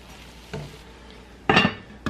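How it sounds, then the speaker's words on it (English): A spoon stirs mustard seeds into braised pork shoulder in a pot, with a couple of short scraping clinks, the loudest near the end, over a faint background. "add these mustard seeds to it, about a tablespoon. Just mix those in a bit"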